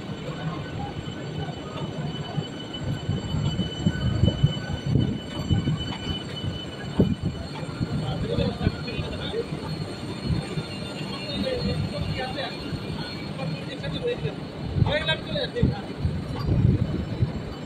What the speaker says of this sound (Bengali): ট্রেন এখন ধীরে ধীরে শিয়ালদাহ স্টেশনের 6 নম্বর প্ল্যাটফর্ম থেকে বেরিয়ে যাচ্ছে।